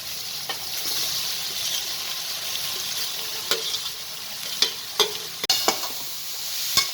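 Grated carrot frying in ghee in a kadai for gajar halwa, a soft continuous sizzle with spoon scrapes and clinks growing more frequent toward the end, nobody speaking.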